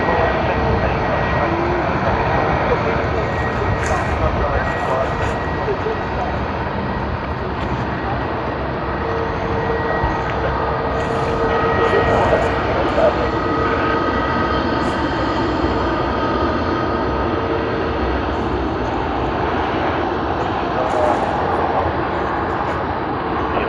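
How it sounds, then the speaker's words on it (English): A T'way airliner bound for Seoul takes off from runway 34 left at Sydney Airport, its broad steady engine roar filling the scene without a break and holding loud throughout, with no voices. "We will be capturing them as soon as they begin their takeoff roll and are visible to us from behind the bushes."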